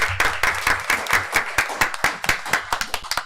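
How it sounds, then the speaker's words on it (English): Applause from attendees at a city commission meeting in South Bay, Florida, with distinct individual hand claps, a small group clapping unevenly and fairly close, and the claps staying sparse rather than merging into a roar. "Let's give them a round of applause for being here tonight."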